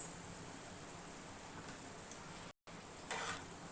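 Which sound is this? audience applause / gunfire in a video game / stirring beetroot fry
stirring beetroot fry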